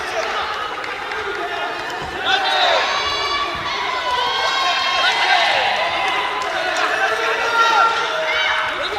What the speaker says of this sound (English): Crowd really into this one, urging both boxers forward.